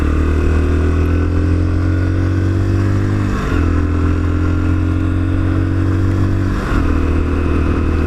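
Lexmoto Assault supermoto-styled commuter motorcycle engine droning steadily while riding, with two audible gear changes where the pitch drops and then climbs again, loud and close with wind noise.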